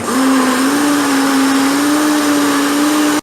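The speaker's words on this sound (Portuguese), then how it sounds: "Bater a massa no liquidificador até ela ficar homogênea." A blender whirs batter into a smooth mix, giving a loud, steady motor whine that holds an even pitch for a few seconds before cutting off abruptly.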